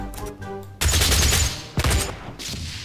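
Rocket launcher from a DOOM weapons mod firing in Garry's Mod, giving loud explosive blasts with a heavy low-end boom and crackling tails, one big burst followed by a shorter second hit.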